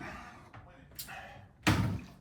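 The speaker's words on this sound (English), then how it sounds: "Oops, just knocked my bottle of water over." A water bottle is knocked over during a home powerlifting session, landing with one close, heavy thunk after a softer knock, while someone talks.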